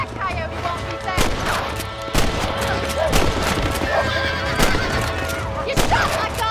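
In a video game, a horse whinnies and neighs loudly amid hoof clatter and bursts of gunfire, with several sharp shots punctuating the cries.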